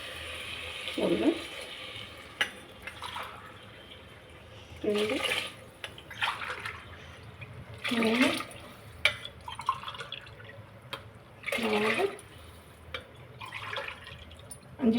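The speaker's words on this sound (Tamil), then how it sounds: "இப்போ நம்ம தண்ணி வந்து அளந்து ஊற்றிக்கலாங்க." Tumblers of measured water poured one at a time into a cooking pot of sautéed raw rice, making four short splashing bursts spaced a few seconds apart, close by, while a voice counts between pours.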